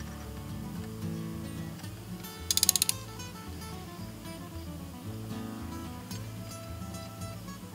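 Metal tools turn and click while a Mattoc cassette tool and fork clamp lock remove a cartridge tube from a mountain bike fork's rebound assembly, giving steady mechanical ratcheting with a brief bright rattle near the middle.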